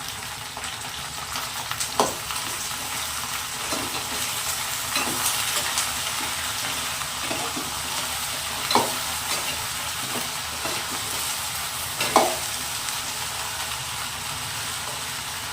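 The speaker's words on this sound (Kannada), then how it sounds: "ಬೆಂಡೆಕಾಯಿ ಎಲ್ಲ ಉರಿಯೋದಕ್ಕೆ ಈ ಥರದೇ ಸೌಟ್ ತಗೊಳ್ಳಿ, ಯಾಕೆಂದರೆ ನೀಟಾಗಿ ಉರಿಬೋದು." Salted okra fries in a pan for a sour okra curry while a ladle stirs it, with a steady sizzle and a few sharp scraping strokes at irregular intervals.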